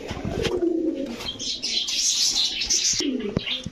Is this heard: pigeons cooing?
yes